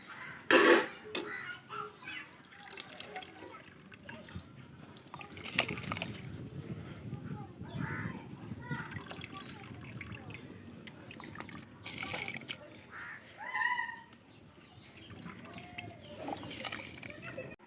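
Soaked rice tipped into boiling water in a pot for ragi sangati, giving intermittent splashes and sloshing stirs at close range while someone talks over it and a voice and a cough come in now and then.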